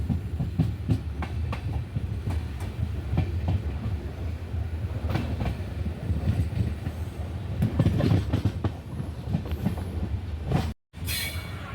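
The Himsagar Express runs along the railway with a loud, continuous rumble and a steady clickety-clack of wheels over rail joints, broken by occasional metallic squeals, all close and without pause.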